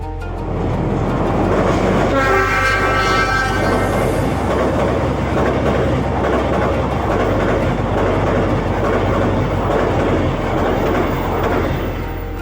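A train rolls past on a railway track beside teak trees, a loud continuous rumble with rhythmic wheel clatter and rattling wagons, steady throughout with no talking.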